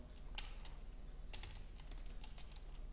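Quiet computer keyboard typing of assembly code, with irregular clusters of light key clicks and short pauses at close range and no voices.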